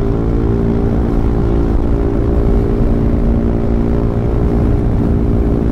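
A motorcycle rides along a rural road lined with bamboo in Ilocos, with a loud, steady engine drone and wind rumble close to the microphone and no talking.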